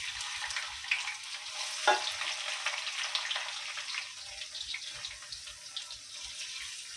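Onions frying in hot oil for a vegetable salan hiss in a steady, fairly quiet sizzle, with a brief clatter near the start as they go in and no voices.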